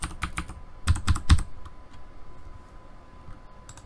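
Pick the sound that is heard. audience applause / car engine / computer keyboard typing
computer keyboard typing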